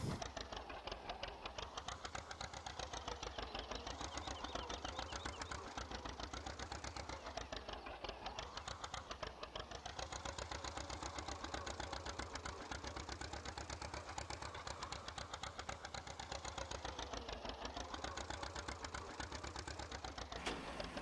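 A tractor engine idles steadily in Farming Simulator 15 on the Sosnovka map, a constant buzzing mechanical drone with a fast rhythmic pulse, even and continuous throughout, with no talk.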